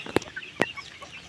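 Chicks and hens clucking and peeping around their feeder at feeding time, with two short close calls and fainter chirps in between.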